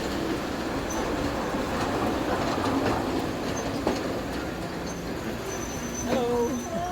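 The Cockle Train, a heritage train running between Victor Harbor and Goolwa, rolls along its rails with steady rumbling and rhythmic clickety-clack, a few wheel squeals rising near the end, heard from on board at moderate volume.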